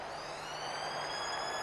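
A half-time siren sounds at a women's rugby league match, Warrington against Huddersfield, a loud steady tone held throughout with crowd ambience underneath.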